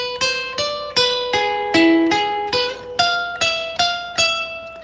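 A requinto guitar plays an ornament: about a dozen crisp plucked notes in an even rhythm, each ringing briefly, stepping down and then back up in pitch, close and clear with no talking.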